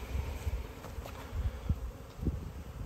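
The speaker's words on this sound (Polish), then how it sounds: "Tam z tyłu również na wylotku pszczoły" Honeybees stir at the entrance of a wooden hive during a midwinter check in damp weather, making a faint, low, uneven buzz with soft fluttering pulses close by.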